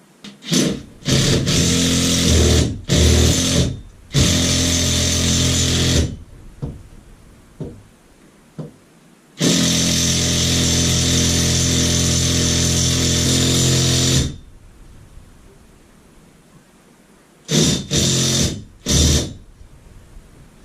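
A power drill drives screws through a TV wall bracket, with a long bursts-and-pauses pattern: several short whirring runs, one sustained five-second drive, then a few brief final pulses, loud and close.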